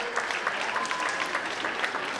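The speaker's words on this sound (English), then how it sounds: "Please a round of applause as we call up Adejoba Showande." Audience at a preschool and primary graduation ceremony clapping steadily, a dense, even patter of many hands heard fairly close with no pauses.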